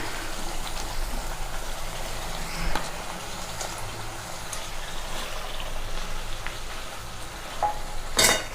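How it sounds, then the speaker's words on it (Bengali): Pieces of katla fish fry in hot oil for a Bengali-style doi katla curry, giving a steady, close sizzle throughout with a few light clatters near the end. "তেল ছেড়ে দিয়েছে, এবারে মাছগুলো এর মধ্যে দিয়ে দেবো আমরা।"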